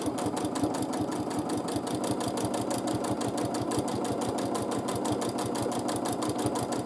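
A sewing machine doing free-motion quilting of a half heart feather shape gives a loud, fast, even needle rhythm close by, running continuously with no pauses or voices.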